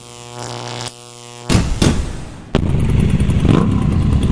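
Motorcycle with a quickshifter, a steady engine tone giving way to clattering thumps and then a loud, rough running roar close by.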